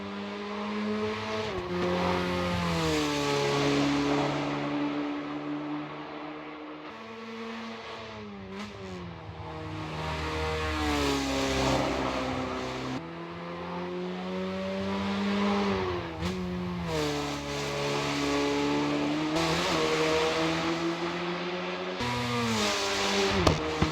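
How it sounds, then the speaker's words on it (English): Dallara EXP race car in Assetto Corsa EVO at Watkins Glen: a loud, continuous engine drone rising and falling through gear changes, with a few sharp backfire pops near the end. "That backfire was great."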